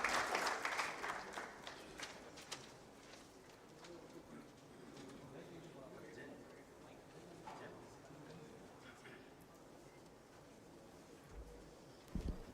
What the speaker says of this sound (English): With a big round of applause, we welcome Ms. Divya